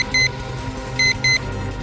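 A toy car remote sets off a timer that gives three clear electronic beeps: one, a pause, then two close together, over a steady background hiss.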